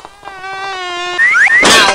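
A fly in a Moomin hide-and-seek video game buzzes with a steady, droning tone, then shifts into rising whistly sweeps and ends in a brief, louder noisy burst.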